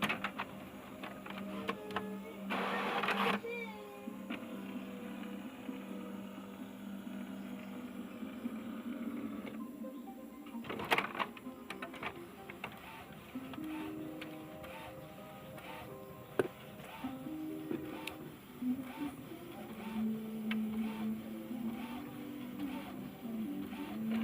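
An HP Smart Tank 615 inkjet printer making a color copy runs quietly, with a soft mechanical whir, the print head shuttling back and forth, and occasional sharp clicks and clunks.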